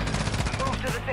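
A shotgun firing in Call of Duty Warzone 2, heard as a brief burst of loud, rapid gunfire with a dense, crackling texture, close by, lasting only about a second.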